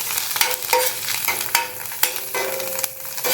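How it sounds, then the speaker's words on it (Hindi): Coriander and chillies frying in a pan over low heat, with a steady soft sizzle and several sharp scraping taps of a spoon stirring against the pan, close up and without talk. "इसे मैं थोड़ा फ्राई कर लूँगी।"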